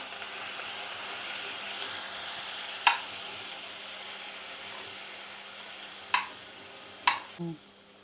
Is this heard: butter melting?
yes